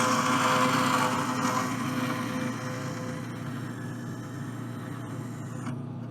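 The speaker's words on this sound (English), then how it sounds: "Okay, we'll go to the bandsaw." A bandsaw cuts through a steel motorcycle header pipe in a metal shop, a loud steady motor hum and blade whine that eases slightly in level partway through, with no talking.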